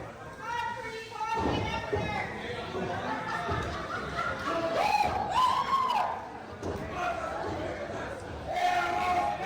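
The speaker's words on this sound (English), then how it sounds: "That's actually like that's a pretty big crowd, as a matter of fact." A fairly large crowd chatters continuously at an event just before an interview begins, overlapping voices and occasional children's shouts and laughter forming a steady, mid-level murmur throughout.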